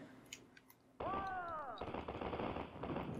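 Cannons blow up castle walls in the Rampart video game. After a quiet start, a sudden burst brings descending whistling tones and then a dense, crackling run of explosions, all fairly faint.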